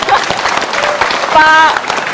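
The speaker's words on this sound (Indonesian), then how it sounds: "Boleh tepuk tangan dong buat Pak Dahlan." An audience at a live quick count event for an Indonesian election applauds, brief scattered clapping mixed with a host speaking over it and a short electronic tone near the end.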